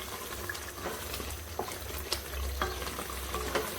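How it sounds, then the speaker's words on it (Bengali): Beef with spices, ginger, garlic, nutmeg and cumin paste cooks in a pot for beef biryani, a faint steady sizzle and bubbling with occasional soft stirring knocks. "এখন বসাই দিলাম বিরিয়ানির জন্য মাংস"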